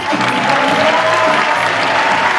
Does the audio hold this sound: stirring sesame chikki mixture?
no